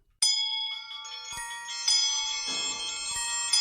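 Household bells for a Christmas Carol radio play ring out together through a house, bright sustained tones that begin suddenly and build as more bells join, chiming layered and continuous.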